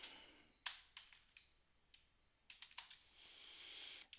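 Typing on a computer keyboard, short bursts of crisp key clicks separated by pauses, quiet and close with no talking.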